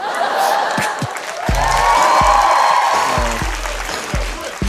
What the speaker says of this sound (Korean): 박수 쳐주면 할 거예요